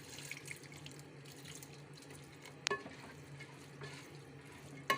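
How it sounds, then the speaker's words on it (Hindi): A cup of water is poured into a pot of half-cooked mash lentils, a faint running, splashing trickle over low kitchen background noise, with a couple of soft knocks. "इसमें हम 1 कप पानी डालेंगे"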